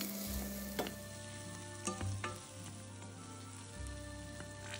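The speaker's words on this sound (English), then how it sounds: "Then it's the peppers' turn to sweat" Onions, garlic and peppers sweat in a pan for a ratatouille tart, giving a steady, soft sizzle with a few sharp clicks and stirring taps over it.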